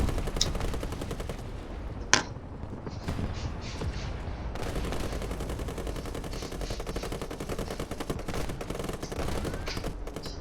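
Tank machine guns in War Thunder rattle in rapid, sustained bursts close up, broken by one sharp loud crack and a brief lull before the chatter resumes.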